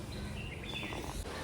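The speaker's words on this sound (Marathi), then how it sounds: "पक्ष्यांचा किलबिलाट." Birds chirp in a village on a morning during Holi, light, high tweets scattered over a steady background hum, fairly distant and not very loud.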